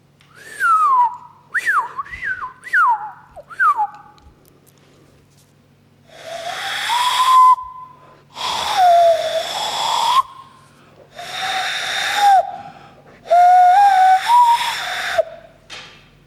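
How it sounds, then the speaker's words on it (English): A person whistles, first a few quick rising chirps, then longer sliding notes with breathy air noise, close and clear with no talking. "One can, for example, whistle using the mouth or the hands."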